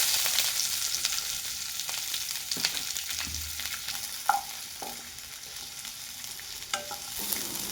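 Chopped small onions fry in hot oil with fenugreek seeds in a pan, giving a steady sizzle with occasional scraping and clinking from stirring and no talk.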